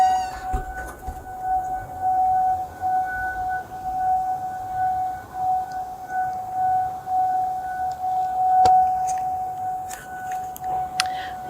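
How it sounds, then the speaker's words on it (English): Civil defense tornado sirens wailing outdoors on a fall day, a steady distant tone holding through the whole stretch with faint household noises over it and no talking. "Our tornado sirens are going off right now."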